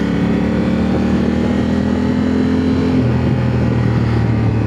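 2025 Honda Africa Twin Adventure Sports ES with stock exhaust cruising in tour mode, a loud steady engine drone with wind noise, the pitch holding then dropping slightly as it eases off, no talking.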